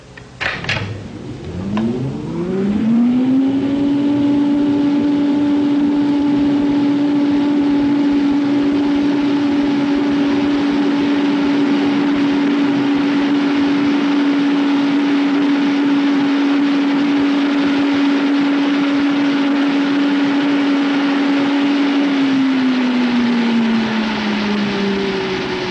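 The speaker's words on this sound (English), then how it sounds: "When I start the blower, I'm going to increase the speed until the drag force acting on the airfoil reaches 1 unit on the scale." A wind tunnel blower pushing air over an airfoil spins up from rest into a loud, steady whine and roar with a rising hum, holds at high speed for about twenty seconds, then begins to drop in pitch near the end.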